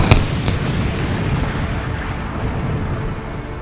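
Military engineers' demolition charges blowing up a hut and bridge during an exercise, a loud booming blast at the start followed by a long rumbling roar that slowly decays.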